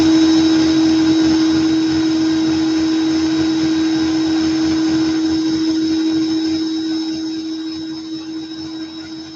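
A drill whirs steadily during vape coil building, a loud, constant high-pitched motor whine that holds nearly unchanged and then fades slightly toward the end.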